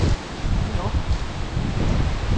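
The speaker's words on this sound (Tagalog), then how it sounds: "binabayo siya ng hangin, no?" Wind buffeting a tent at a campsite in Lobo, Batangas, a loud, rough, continuous rumble and flapping gusts close to the microphone, with brief talk underneath.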